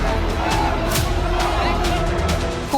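Street protest crowd in Darbhanga, Bihar, over a child's rape-murder: a thick, unbroken babble of many agitated voices and shouts, loud and close, holding steady before a brief sharper cry near the end.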